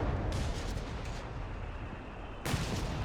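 Mortar and artillery fire in a Company of Heroes 3 battle, with dense rumbling blasts at the start and a fresh booming impact near the end over a constant roar of combat.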